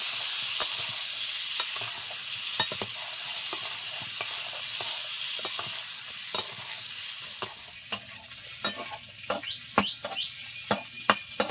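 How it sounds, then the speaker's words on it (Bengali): Pointed gourd slices fry slowly in hot oil over medium heat in a village kitchen, a steady bright sizzle broken by sharp crackles and pops that grow more frequent toward the end, close and alone without talk. "মিডিয়াম আছে আস্তে আস্তে পটল ভাজতে হবে"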